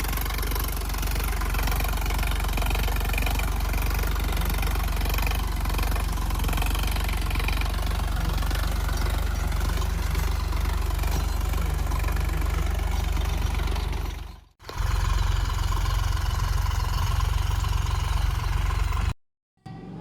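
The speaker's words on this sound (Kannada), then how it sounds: "ಪುನಃ ಅಲ್ಲಿಂದ ಬಂದು ಟ್ರ್ಯಾಕ್ಟರ್ ಹೊಡಕ್ಕೆ ಸ್ಟಾರ್ಟ್ ಮಾಡಿದ್ವಿ." A farm tractor used for tilling a field with a rotavator runs with a steady loud diesel chug and idle rumble, briefly cutting out twice near the end.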